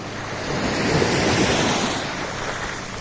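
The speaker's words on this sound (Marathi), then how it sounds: "समुद्र केवढा मोठा आहे यार" Sea waves surge and wash steadily at Devbag Beach, swelling to a broad roar midway, with some wind buffeting the microphone.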